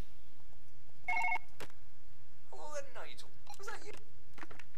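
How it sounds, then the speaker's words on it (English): A telephone in the surgery video game Surgeon Simulator 2013 gives one short ring, followed by a burst of clattering and chirpy game sounds, with speech in the mix. "I'll just place that there for a moment while I pick up the phone."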